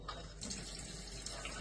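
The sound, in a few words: water running from a Quooker kitchen tap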